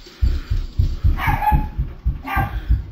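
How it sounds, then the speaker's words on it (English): Dogs barking in a rapid run of deep, close woofs, about a dozen in three seconds, with a couple of sharper higher yips mixed in and no talking. "And they brought the dogs."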